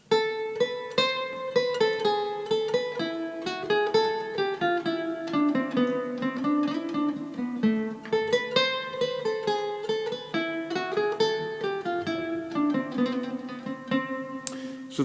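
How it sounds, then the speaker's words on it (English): Bach's Bourrée played on guitar in a neoclassical style, a clear melodic line of plucked notes with a quick, lilting rhythm and ringing harmonics, heard alone with no talking. "so let's just check out Johann Sebastian Bach's Bourrée"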